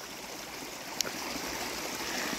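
A small forest waterfall in Finland gives a steady, soft hiss of flowing water, heard close and continuous, with a brief splashy tick partway through.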